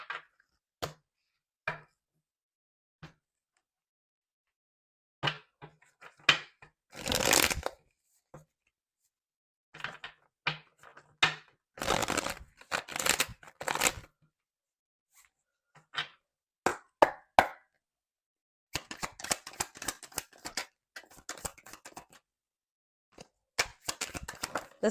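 Tarot cards being shuffled in a quiet room, heard as scattered bursts of riffling and soft slaps with silent gaps between them, up close, with no talking.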